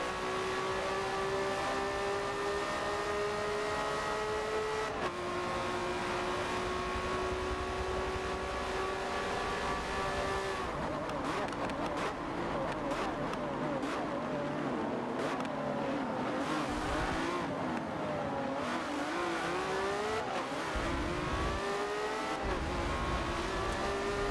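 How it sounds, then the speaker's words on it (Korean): Racing cars in the video game Forza Motorsport 7 roar continuously, with high whining engine tones rising and falling through gear changes, then a busier stretch of overlapping engines and tire noise, loud and steady throughout. "레이싱 게임 하나 들고 왔습니다. 포르자 모터스포츠 7입니다."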